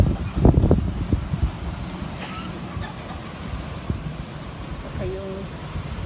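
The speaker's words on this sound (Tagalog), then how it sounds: "Update natin yung hangin. Ang lakas." Strong wind blows outdoors near banana and talisay trees, a steady broadband rush with heavier gusts early on, while a person talks over it.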